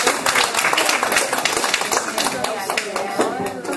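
A lecture audience in Korea gives a round of brisk, close applause, dense overlapping claps that keep going for several seconds, with voices mixed in beneath.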